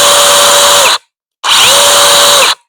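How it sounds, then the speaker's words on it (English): Two loud bursts of a Mellif 20V cordless chainsaw whirring at high speed to oil its chain, each about a second long, separated by a short silence. "we're just gonna rotate our chain a little bit in order to oil the whole thing"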